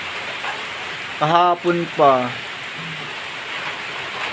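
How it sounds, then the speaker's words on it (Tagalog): Heavy rain pours steadily onto surfaces at a home in the Philippines around Christmas, a constant hiss throughout, with someone speaking briefly over it midway. "grabe po ang ulan"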